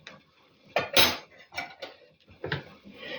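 A spoon stirs a pickled-cucumber marinade with ketchup and hot paprika in a metal pot, giving soft clinks and scrapes in a few separate bursts, close by with no talking.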